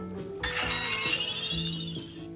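A Bandai Chogokin GE-46 Phone Braver Seven toy phone plays an electronic power-on chime as its screen lights up: a rising synth sweep over a stepping tone melody, clear and close with no talking.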